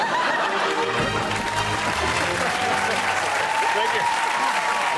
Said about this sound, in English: how about it for our audience members? Nice round of applause.